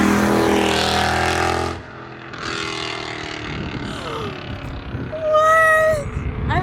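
A Mercedes C63 AMG with an Armytrix exhaust rumbles loudly close by, its engine surging and dropping off as it pulls up, then idling with a deep burble while a voice speaks briefly.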